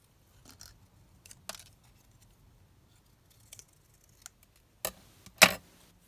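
Scissors snip craft paper in a few sparse, quiet cuts, ending in two sharper, louder snips near the close.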